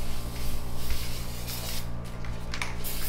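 An aerosol spray can hisses steadily and continuously over a new boat trailer with carpeted bunks and bolts, a close, unbroken spray of about three seconds with no talking.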